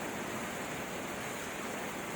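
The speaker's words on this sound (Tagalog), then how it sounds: "Pasok na yung tubig sa akin" Floodwater from Typhoon Enteng rushes in as a steady, broad, hissing roar, continuous and fairly faint with no voices.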